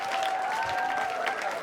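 An audience applauds comedian Ankit Sharma on a comedy show stage: steady, dense clapping that holds for the whole moment with a faint crowd murmur and a thin sustained tone underneath.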